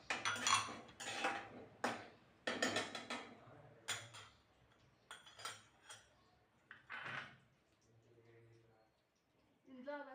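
Cashews and spices are stirred in hot ghee in a kitchen pan, giving a string of close metallic scrapes and clinks of a spoon against the pan, irregular and separated by brief pauses.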